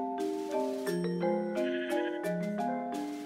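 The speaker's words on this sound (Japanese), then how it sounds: "羊がいるんですね" Sheep bleating in a Minecraft-style video game, a sequence of clear, tonal synthetic bleats with stepped pitches, close and steady with no talking.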